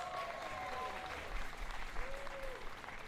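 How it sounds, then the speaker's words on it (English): Audience applause for staff at a high school graduation ceremony, a short burst of crowd clapping with a thin whistle or tonal sound drifting through it. "give them a big round of applause, guys"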